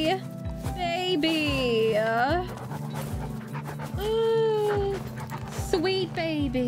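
Dogs whimper, yip and pant in the video game The Red Lantern, with high wavering whines rising and falling in several long bursts over a steady low musical drone, close and fairly loud.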